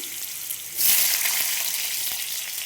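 Vegetables hit hot oil with spices for a Bengali drumstick curry, a sudden bright sizzle that jumps up and keeps hissing steadily, close and moderately loud, with no talk.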